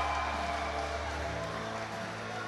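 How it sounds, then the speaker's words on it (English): A fight-night crowd swells with a sustained, fairly distant roar of cheering as a fighter makes his way out to the ring, a continuous wash of voices with no single standout shout. "Big cheer from the crowd comes up as Munesh makes his way."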